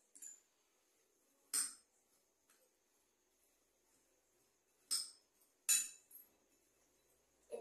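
A chaat masala salad of mixed ingredients is stirred in a bowl, a few sparse, faint metallic clinks of a utensil against the bowl separated by quiet stretches.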